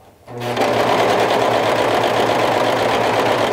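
Serger sewing machine stitching a seam, starting after a brief quiet moment and then running in a continuous fast, loud whirring rattle up close.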